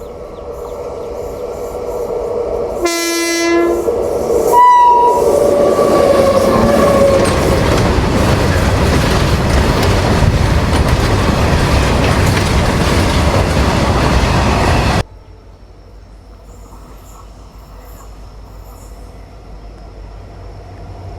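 A passenger train roars past close by with a loud, steady rumble and rhythmic clatter of wheels, a horn blast early on, then cuts to quieter background, at Ettimadai on the Tamil Nadu–Kerala border.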